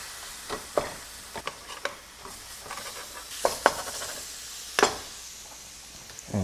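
Food being mashed in a sizzling pan: a low background sizzle punctuated by irregular sharp clinks and scrapes of a utensil against the pan, close by, without speech.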